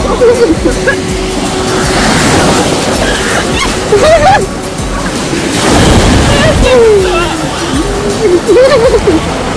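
Sea waves on a Bulgarian beach rolling in with a broad washing roar that swells and recedes, heavy wind buffeting the microphone, and people talking over it.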